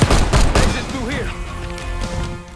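Gunfire in the shooter Black Ops 6: a few loud, close sharp shots in quick succession at the start, then fading under a voice and game sounds.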